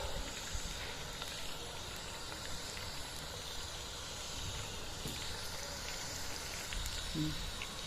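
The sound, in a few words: garlic chicken kebab frying in oil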